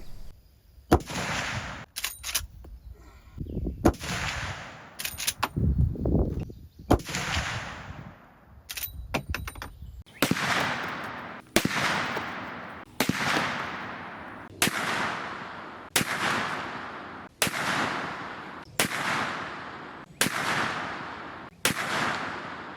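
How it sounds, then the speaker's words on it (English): A .45-70 Marlin 1895 Trapper firing North Fork 350-grain flat-point bullets into ballistics gel: loud sharp rifle shots, irregular at first, then a steady series of about a dozen evenly spaced cracks with echoing decay. "So let's go ahead and shoot it."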